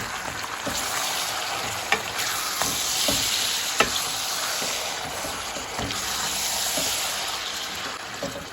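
Lamb sizzles and crackles steadily in hot rendered fat in a pot, with occasional sharper pops and spatters over a constant frying hiss.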